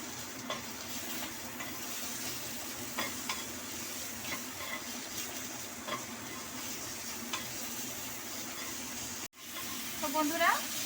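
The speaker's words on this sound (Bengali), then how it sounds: "এবার টমেটোটাকে আমি ভালোভাবে মিক্স করে নেব।" Tomato with salt stirred and mashed in a pan, soft scraping and light sizzling with repeated spatula knocks, a brief cutout, then a louder burst of stirring at the end.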